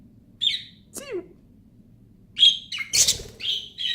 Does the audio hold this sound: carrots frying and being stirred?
no